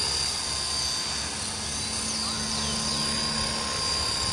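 A remote-controlled helicopter flies over open ground with grass below. Its rotor and motor make a continuous high whine with a buzzing drone that stays steady and fairly loud throughout.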